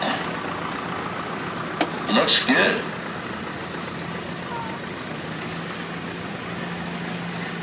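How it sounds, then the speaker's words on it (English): A restored 1961 Cub Lobo tractor runs with a steady low engine rumble as it passes in a parade, with a brief voice and some crowd noise over it. "1961, this was his grandfather's tractor"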